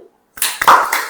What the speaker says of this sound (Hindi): ताली हो जाओ।